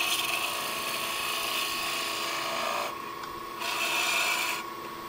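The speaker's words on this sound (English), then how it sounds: "I'll show you here how I like to roll a bead" A woodturning gouge rolls a bead on a spinning wooden spindle, giving a continuous close rasping scrape over the lathe's hum that softens briefly mid-cut and then returns.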